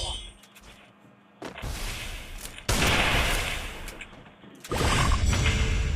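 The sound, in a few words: gunshots in the video game Free Fire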